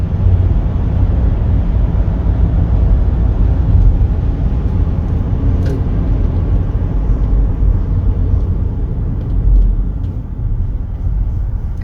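A 2020 Chevrolet Equinox LS driving on the road, a steady low engine and road rumble heard from inside the cabin, continuous and fairly loud with no talking.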